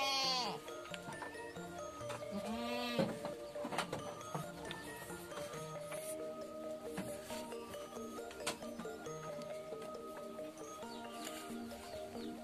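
Jawa Randu goats in a pen bleat repeatedly, several wavering calls overlapping at moderate distance against a busy farmyard background with faint birdsong.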